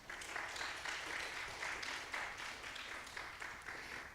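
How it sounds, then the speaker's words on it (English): Audience applause for a student presentation at St. Vincent, a soft, steady wash of many hands clapping, moderately distant and even throughout. "Students, can we give Brian a round of applause for his wonderful presentation?"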